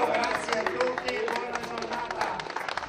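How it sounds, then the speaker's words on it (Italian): Crowd applause at a mountain cheese festival, with scattered clapping and cheers, loud and fairly close, while voices talk over it. "Via! Un bel applauso!"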